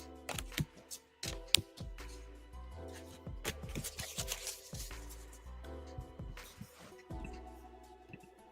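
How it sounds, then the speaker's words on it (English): Tarot cards shuffled by hand at close range, a run of quick riffling, tapping and sliding bursts with brief pauses, and faint background sound with no clear talking. "All right, shuffling for the Gemini."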